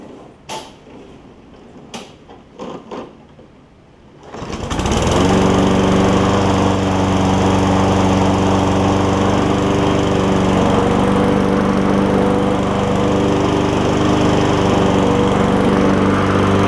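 A few clunks and handling knocks, then a Toro Recycler push mower starts up and runs steadily and loudly with an even droning engine hum while its self-propel is tested.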